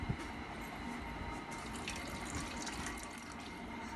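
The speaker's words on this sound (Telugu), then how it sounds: "ఫస్ట్ చింతపండు గుజ్జు పోయాలి" Tamarind pulp is poured into ugadi pachadi, a steady watery pour that runs continuously for a few seconds at moderate loudness.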